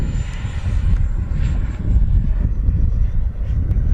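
An FMS Rafale 80mm electric ducted-fan RC jet makes a fast, loud pass over a grass field, its steady roaring whine with a high tonal line shifting downward as it goes by.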